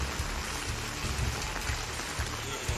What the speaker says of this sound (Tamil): கொடைக்கானல் மலைப்பகுதியில் 1 மணி நேரத்திற்கும் மேலாக கனமழை பெய்தது.